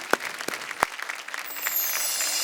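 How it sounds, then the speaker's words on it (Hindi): An audience at a folk singing reality show applauds in a steady, continuous patter of clapping that carries through the short stretch. "जोरदार तालियां हो जाए।"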